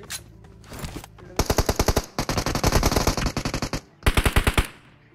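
Gunfire in a battle royale shooter, including an M24 sniper rifle, arrives as loud rapid bursts of sharp shots separated by short pauses, with a final volley near the end.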